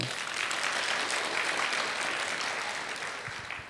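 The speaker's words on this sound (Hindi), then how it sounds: "तालियां बजाओ ना जरा" An audience at a spiritual gathering claps together, a dense, moderately distant round of applause lasting the whole few seconds.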